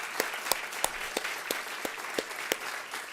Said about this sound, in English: Can we give them a round of applause for?